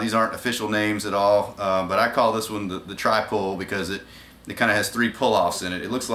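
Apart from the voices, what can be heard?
No distinct noise like a dog, phone or traffic.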